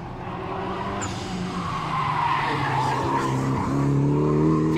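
A Mitsubishi Lancer Evo VI race car corners on a track, its engine droning loud and close under a continuous squeal of skidding tyres that rises slightly toward the end.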